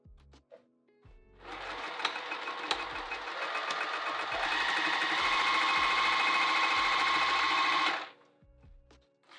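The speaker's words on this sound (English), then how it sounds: "let's sew down this edge" A sewing machine stitches continuously for several seconds, sewing down the edge of a handbag pocket, close and steady with a slight speed-up midway, then stops into near silence.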